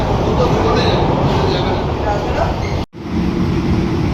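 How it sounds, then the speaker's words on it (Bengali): Sealdah–Kalyani AC local train running past Ichapur station, with a loud, steady rumble and rattle heard from inside the carriage and a brief dropout near the end, while a voice talks over it. "আমাদের ট্রেন ক্রস করছে ইছাপুর রেলওয়ে স্টেশন"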